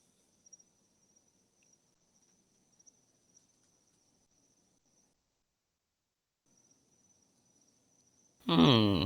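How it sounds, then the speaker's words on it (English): Crickets chirp faintly and steadily as a sound effect, a thin continuous trill that drops out briefly midway, then gives way to a sudden loud burst of noise at the very end. "crickets, literally."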